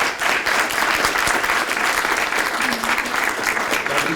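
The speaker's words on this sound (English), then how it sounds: "Could we give one more round of applause?" Audience at the close of a panel discussion event breaking into loud, steady applause, a dense continuous clatter of many hands clapping up close with faint voices mixed in.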